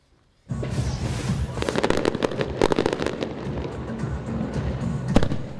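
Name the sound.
fireworks at the Jumbo Shrimp baseball home opener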